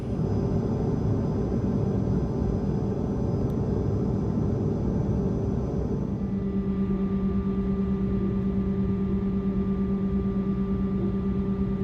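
Steady broadband cabin roar of an airliner in flight, loud and continuous, with a shift partway through to a lower droning tone with a sustained hum.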